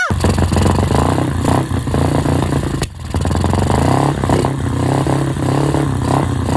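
Motorcycle engine started after sitting unused for a long while, running loud and close with a steady, rough chugging idle and clattery mechanical noise, one brief dip midway.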